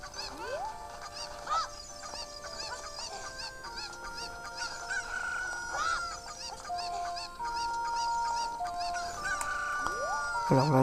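Chicken clucking and squawking in a video game, repeated short honking calls alongside electronic game music tones, with no talk.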